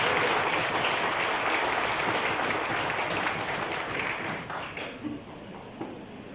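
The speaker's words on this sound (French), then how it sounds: "mes jeunes camarades Paul méritent un grand applaudissement" Applause from the crowd at a regional Eid ul-Fitr gathering for constituency No. 15 in Mauritius: dense, steady clapping that thins out and fades toward the end.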